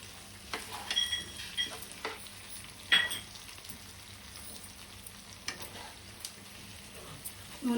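Stuffed bitter gourd masala fries in oil until the oil separates, a quiet background sizzle broken by occasional sharp scrapes and clinks of stirring spaced unevenly throughout.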